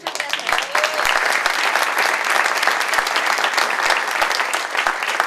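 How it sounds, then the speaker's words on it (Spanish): Loud, dense audience applause after a theatre performance, sustained clapping from a full house with no talk. "muchas gracias por apoyarnos con su tiempo y con sus aplausos"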